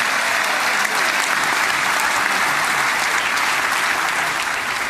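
Sustained applause fills the Knesset chamber in Jerusalem after the Israeli Prime Minister's address, a dense, steady wall of clapping from a large audience that holds at high level throughout with no voices on top.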